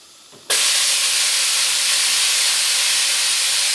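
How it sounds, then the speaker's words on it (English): A Venturi vacuum vent on a resaw jig switches on with a sudden burst, then holds a loud, steady, broad air hiss close by. "I run a Venturi vent. It's going to make a little noise,"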